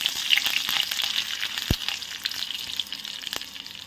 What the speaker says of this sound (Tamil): எண்ணெயில கடுகு உளுத்தம் பருப்பு சேர்த்துக்கலாம். கடுகு வடிகட்டும்.